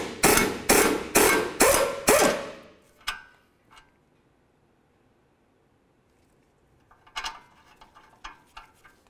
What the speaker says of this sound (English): we're going to continue on to removing our two 18mm headed caliper bracket bolts